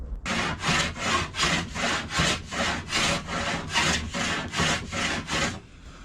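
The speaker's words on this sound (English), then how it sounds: "I'm just planing the land on the plank beneath" A hand plane cuts a bevel along a wooden plank on a small wooden dinghy under construction. About eleven steady, rhythmic rasping strokes are heard up close, and the motion stops near the end.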